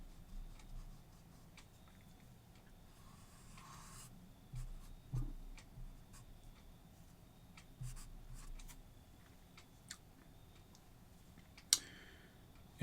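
Faint, close scratching strokes and scattered light ticks of a circuit diagram of an R-2R resistor ladder being erased and partly redrawn, coming in short irregular bursts with quiet gaps and no talking.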